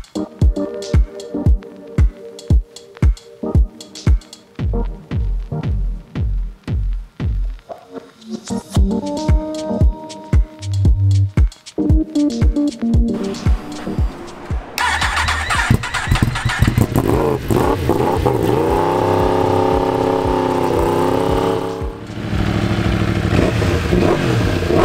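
A rebuilt Yamaha racing motorcycle engine is started after 9,500 km, first popping and sputtering in uneven bursts, then catching into a loud, steady idle with rising revs, close and alone.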